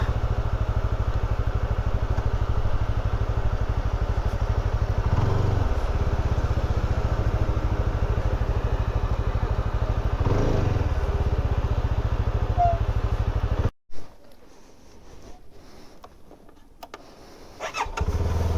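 A CF Moto 300SR motorcycle idles at a checkpost as a steady, close engine rumble for about fourteen seconds, then cuts off suddenly, leaving quieter background noise.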